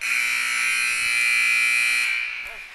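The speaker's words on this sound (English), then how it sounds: "apparently we've set up right by the buzzer, so we apologize for that annoyance" An arena buzzer at an indoor sports game blares in a loud, steady electronic drone that holds for over two seconds before cutting off, with no talk over it.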